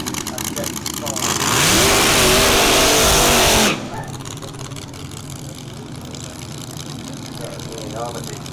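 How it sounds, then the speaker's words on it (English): A slingshot dragster blasts down the strip at Melbourne Raceway in York, a loud, rising engine roar that swells for about two seconds, then drops away to a distant rumble as a commentator talks over it. "Ian Armitage with the slingshot dragster."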